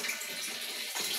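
Tap water pours into a nearly full bucket, a steady, close rushing splash that continues without pause.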